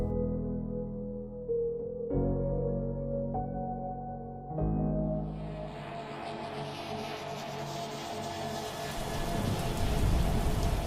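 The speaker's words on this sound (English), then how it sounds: "As soft rain began to pour down upon Aurora, Jay sprinted through the forest" Soft rain pours down in a steady, faint hiss that builds gradually and thickens toward the end, layered beneath soft, sustained tonal music.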